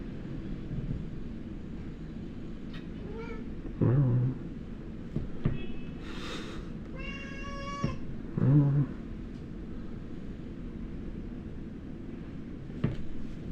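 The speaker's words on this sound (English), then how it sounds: "so I can check why my cat is meowing about" A domestic cat meows several times indoors, short separate calls spread across the stretch over a steady low background hum, moderately close and not very loud.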